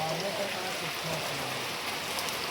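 Steady monsoon rain falls continuously on a farm, a soft even patter with no voices, moderately quiet throughout.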